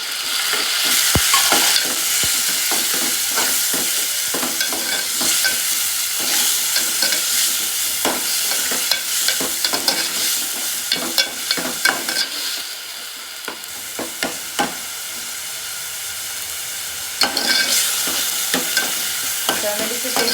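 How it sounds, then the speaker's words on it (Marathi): Tomato paste fries in oil in a pan for a Konkani-Malvani fish curry, sizzling steadily up close while a utensil stirs and scrapes in repeated clattering strokes, quieting briefly before the sizzle swells again. "टोमॅटोच्या पेस्टला तेल सुटलं पाहिजे, तोपर्यंत टोमॅटो हलवायचा चांगला."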